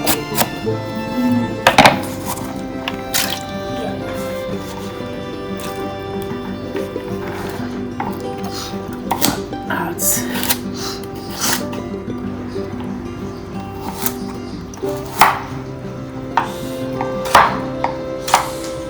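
A knife chops food on a cutting board in irregular, close thunks and knocks, scattered across the stretch with short pauses, over a faint tonal background.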